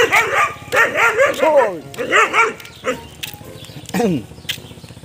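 A fierce dog barks repeatedly outdoors, a run of close, loud barks and yips with short pauses, while people talk in between.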